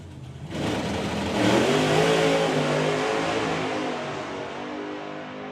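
A drag racing car at the STP Summer Nationals makes a run, its engine roaring up in a sustained, rising howl that peaks and then slowly recedes into the distance, heard from the track side.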